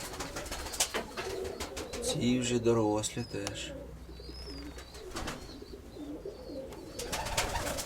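Domestic pigeons, a two-year-old pair with a white squab, coo in a loft at close range under steady conversation, with soft repeated coos rising and falling throughout.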